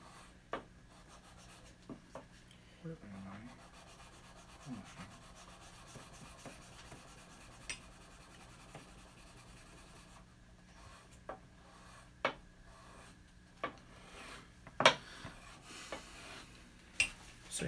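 Blade drawn across an 800 grit sharpening stone, giving quiet, irregular scraping strokes with a few sharper ticks, faint and close, with no talk over it.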